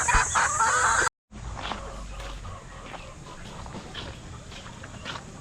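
Chickens cluck and call together at feeding time, a busy, close flock chatter that cuts out briefly before resuming at a slightly lower level over steady background noise.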